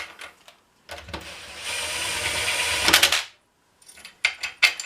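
A ratchet wrench clicks in a long, continuous run while tightening engine cylinder head bolts, followed by a few short bursts of clicking after a pause.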